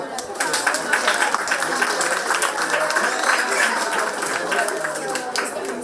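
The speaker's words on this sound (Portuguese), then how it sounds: "Um aplauso." Dense, steady applause from a large crowd fills the whole stretch, with a hum of voices mixed in beneath the clapping.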